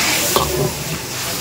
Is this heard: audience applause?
no